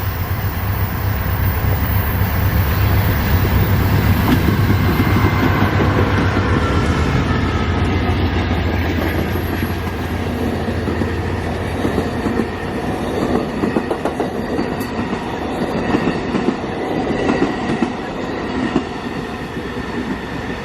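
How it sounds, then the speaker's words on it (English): The southbound Amtrak 59 City of New Orleans passenger train, led by an ALC-42 with a P42DC behind, rolls past close by. A loud steady roar of engines and wheels gives way to rhythmic clickety-clack of railcars and faint wheel squeal. "the southbound City of New Orleans Amtrak 59. It had an ALC-42 leading to P42 DC."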